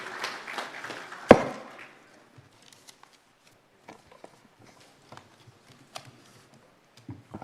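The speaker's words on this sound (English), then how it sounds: "Let's welcome him with a big round of applause" A conference audience at the official opening of the 14th IUCEA Annual Conference applauds; dense clapping fills the first two seconds, then fades into scattered, isolated claps.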